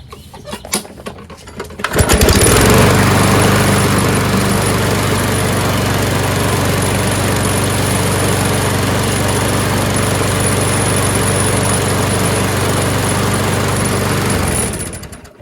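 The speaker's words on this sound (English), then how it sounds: "Let's start her up and watch the gears move." A Craftsman self-propelled lawnmower with a 6.75 Briggs Quantum engine starts after a few pulls and runs at a loud, steady close-up drone for about twelve seconds before cutting off.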